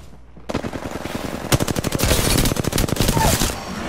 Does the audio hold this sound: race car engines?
no